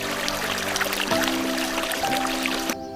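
Water pours and trickles out of a shoe steadily for a few seconds, a splashy stream that cuts off abruptly near the end.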